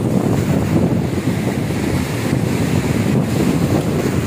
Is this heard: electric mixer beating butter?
no